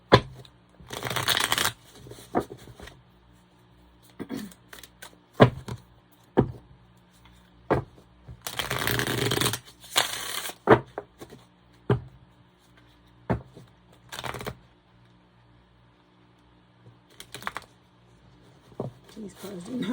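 Tarot cards being shuffled by hand, with repeated bursts of riffling and flicking separated by short pauses, fairly close and moderately loud.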